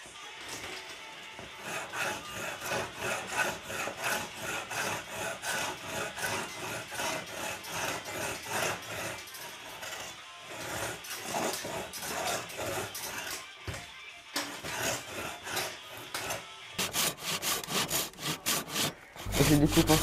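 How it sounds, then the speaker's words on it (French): A Japanese pull saw cuts lengthwise through a wooden blank for a Les Paul guitar, with rapid rhythmic rasping strokes, close and loud, continuing steadily with brief pauses. "je découpe ensuite dans la longueur à l'aide d'un scie japonaise"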